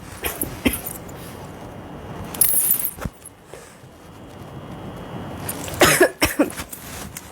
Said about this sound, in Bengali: আরে শুকনা কাশি।